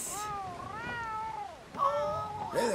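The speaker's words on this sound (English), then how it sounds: "Look at the cat!" A cat meows several times in Red Dead Redemption, with drawn-out, rising and falling cries, close and clear over a low game ambience.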